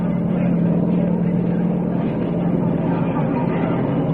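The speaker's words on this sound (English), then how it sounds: "The fighter planes were coming in, biplanes, each with 2 machine guns and a few bombs." Biplane fighter planes fly in as a radio drama sound effect, a loud steady droning engine roar with a low hum that holds throughout, close and continuous with no talk.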